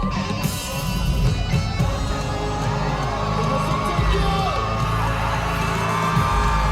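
Loud concert crowd screaming and cheering at a performance at Summer Sonic Tokyo, a sustained roar with whoops and shrill yells over booming low music throughout.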